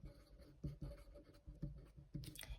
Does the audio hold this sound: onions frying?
no